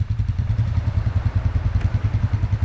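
ATV or motorbike engine running off-road on a coastal trail, a close, steady low pulsing chug with a rapid rhythmic beat and no talk over it.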